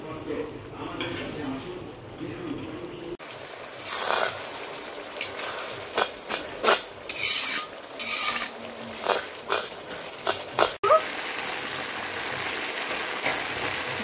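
Spice paste stirred and fried in a pan after water from the mixer jar is added, with repeated scraping and clinking strokes of a utensil against the pan, sizzling underneath and someone talking at times.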